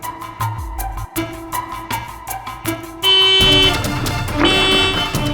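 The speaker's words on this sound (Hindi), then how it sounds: "बरोबर 3 बजे अपन को हॉर्न बजाने का है।" A loud, steady vehicle horn blares continuously near the end, following a run of rhythmic thumps and clatter.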